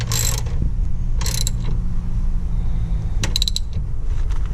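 A ratchet clicks in short, sharp bursts while cranking during installation of a steering tie rod, over a steady low hum of background noise.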